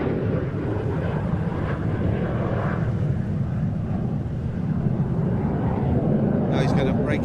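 A delta-wing jet performing at the International Ayr Show Festival of Flight makes a loud, steady roar that fills the whole stretch, while a commentator talks over it.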